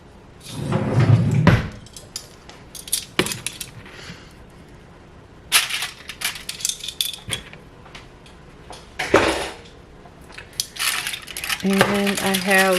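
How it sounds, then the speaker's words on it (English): Metal tongs clatter and scrape against a pan while food is handled and turned, a series of sharp irregular clinks and knocks with quieter gaps between them. "So let me get my tongs."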